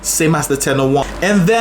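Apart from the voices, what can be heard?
No everyday noise stands out behind the speech.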